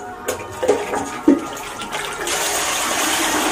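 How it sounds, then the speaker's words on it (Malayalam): Water poured into acid while preparing rubber sheets from latex in Kerala: a splashing pour with a few knocks, then a steady rushing flow through the second half, close and fairly loud, with no talking. "ഈ ആസിഡിലേക്കാണ് വെള്ളം ഒഴിക്കുന്നത്"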